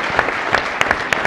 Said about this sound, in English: So please join me in applauding this wonderful panel for their contributions.